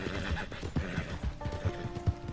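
A horse in the Red Dead Redemption 2 video game whinnies while its hooves clip-clop in a steady rhythm, close and fairly loud over game ambience.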